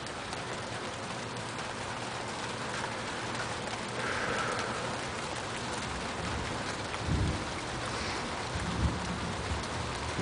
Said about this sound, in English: Now there goes the thunder.